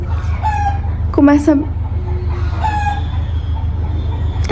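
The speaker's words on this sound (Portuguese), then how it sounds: "Vocês vão ficar com a galinha de fundo enquanto eu falo do quão abusivo era o Riley." A chicken clucks and squawks in the background at a home in Ceará, Brazil, with several drawn-out calls over a steady low hum while someone talks nearby.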